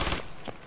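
Gunfire in the video game Escape From Tarkov Arena during a tournament match: a short, loud burst of shots followed by a second, fainter report.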